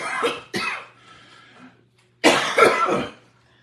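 Someone coughs close by: two harsh coughs, a short pause with faint wheezing, then a longer burst of rough coughing.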